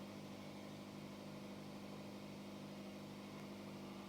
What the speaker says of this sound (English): Seems to be idling good.